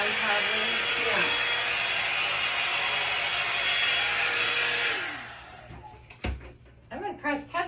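A hair dryer brush blows hot air while styling hair, a loud steady whirring roar for about five seconds before it cuts off, followed by a clunk and people talking.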